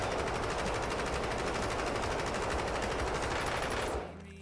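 Kilo rifle in the Warzone video game on a firing range, a long unbroken full-auto burst of rapid loud shots that cuts off sharply near the end.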